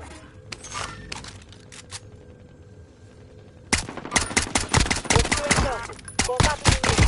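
Rapid bursts of automatic gunfire and loud blasts in a PS4 video game, close and intense, following a quieter stretch of ambient game noise.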